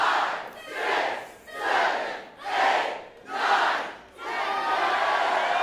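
A large wrestling crowd at a Juggalo Championship Wrestling show chants in four loud rhythmic swells, then breaks into a sustained roar of cheering, full and close.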